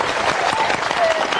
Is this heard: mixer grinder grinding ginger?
no